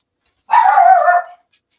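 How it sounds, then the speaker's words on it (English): A dog lets out a single loud, close bark, clear and isolated against silence. "As my dog goes mad at something."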